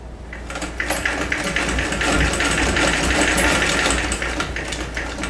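A vintage Singer 206K treadle sewing machine runs steadily and loudly, stitching through two layers of denim with a continuous mechanical whir and rapid rhythmic clatter that holds throughout.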